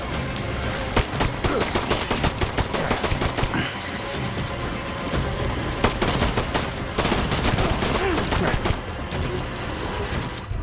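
Gunfire in the Death Stranding video game comes as rapid bursts of sharp shots, a dense fusillade with brief pauses between volleys that stays loud throughout.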